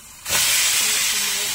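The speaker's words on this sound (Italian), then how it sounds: "E la facciamo soffriggere" Pork hits hot oil in a pan for a mung bean dish, bursting into a sudden loud, steady hiss that holds, close up, with a faint voice underneath.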